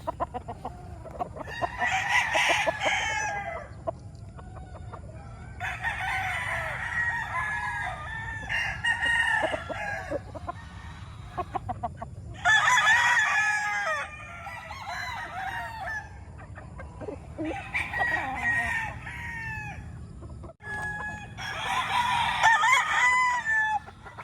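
A gamefowl rooster, three-quarter Sweater and one-quarter yellow-legged Dutch cross, crows repeatedly in long, close, loud calls separated by short pauses, with clucking and farmyard noise in between.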